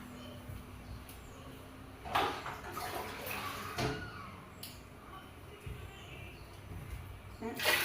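Water is poured into a pot for coconut rice in short splashing bursts that rise and fade, fairly quiet and close, with faint background sounds between pours.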